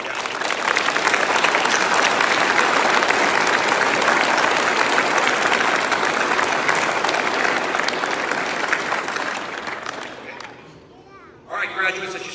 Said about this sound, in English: So we owe them a round of applause.